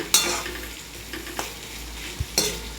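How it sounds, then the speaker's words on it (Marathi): Sliced onions frying in a pan until reddish brown, a steady soft sizzle broken by a few sharp scrapes and clicks of a stirring utensil, close and fairly quiet. "तर लाल खरपूस असं आपण भाजून घेणार आहोत कांद्याला।"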